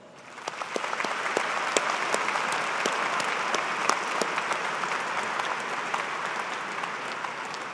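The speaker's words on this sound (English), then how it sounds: "Please join me in congratulating them with a round of applause." A commencement audience at a college of engineering ceremony applauds, a sustained, dense crowd of clapping with sharp individual claps standing out near and far, steady throughout with no talk.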